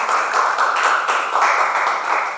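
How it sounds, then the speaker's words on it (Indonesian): Brief, close burst of clapping as a school podcast audience welcomes alumni guests of SMK Penerbangan, a dense, even patter of hands that stays loud throughout. "Beri tepuk tangan buat kakak-kakak alumni SMK Penerbangan."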